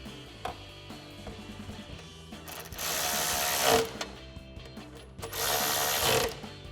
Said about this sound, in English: We're going to tighten these two down with a 10mm socket and a ratchet.